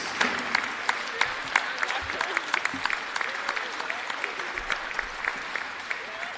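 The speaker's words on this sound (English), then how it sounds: "Big applause for the 2021 seniors." Basketball game crowd in a gym applauds graduating seniors, a dense, steady patter of clapping with sharper individual claps popping out, continuing evenly throughout with faint voices beneath.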